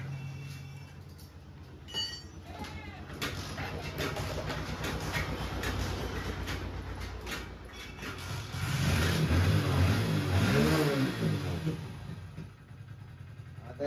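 A Hero Splendor BS6 motorcycle with a weak battery being started: faint clicks and cranking give way to an engine that catches and idles, then grows louder and rougher toward the end, recorded close by.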